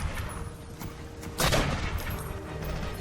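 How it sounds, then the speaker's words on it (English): Gunfire rings out in the action game Dead to Rights: Retribution: a low background of combat noise, then a sharp, louder burst of shots about halfway through that fades into continued rumbling. "that's who's shooting at you"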